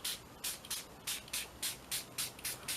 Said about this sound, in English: Now I need to spray it again.